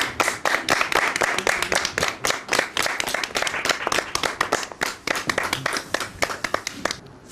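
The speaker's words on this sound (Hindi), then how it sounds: "तालियां होनी चाहिए बहुत खूबसूरत।" Audience at a Pakistani bridal competition show clapping steadily for about seven seconds, a dense stream of sharp hand claps with no pauses.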